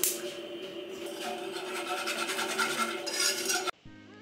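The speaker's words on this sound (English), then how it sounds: "peeling and cutting up the apples for the mini apple pies" Apples being peeled and cut for mini apple pies: a continuous scraping, rubbing rasp with small knife clicks over soft background music, ending abruptly.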